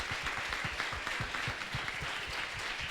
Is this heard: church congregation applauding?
yes